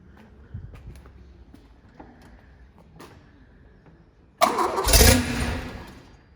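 A Peugeot 604 engine cranks and catches after a stretch of quiet shuffling, then bursts into a loud, rough start that settles into a running idle close by.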